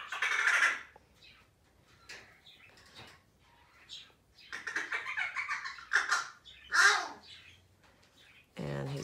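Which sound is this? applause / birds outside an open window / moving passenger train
birds outside an open window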